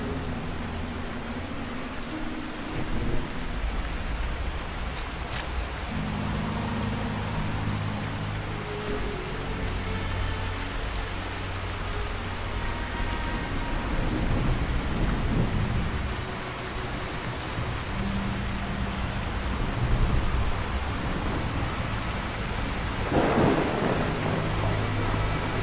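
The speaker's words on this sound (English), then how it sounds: "Oh, great, more rain." Steady rain pours throughout a stormy night in Fallout 4, with deep thunder rumbling repeatedly and a louder crack near the end, no talking over it.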